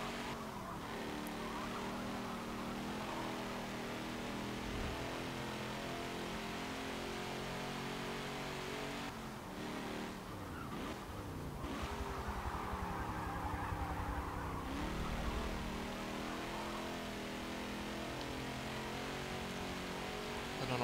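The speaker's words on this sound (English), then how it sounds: "I don't know why the exhaust is doing that wobbly thing." A race car in Forza Motorsport 7 drones steadily around Road Atlanta, its exhaust note wavering and wobbling in pitch, with brief dips in engine load as it lifts and reapplies throttle.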